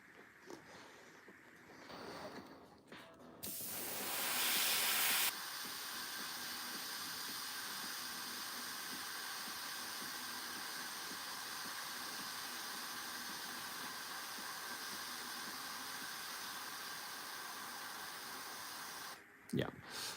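Airbrush spraying paint onto a Warhammer miniature, a steady close hiss that bursts louder for a couple of seconds and then runs continuously until it cuts off near the end.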